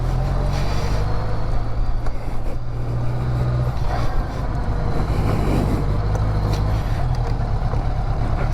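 A 1980 Honda Goldwing motorcycle out on a test ride, heard as a loud, continuous rumble of the engine mixed with heavy wind and road noise throughout.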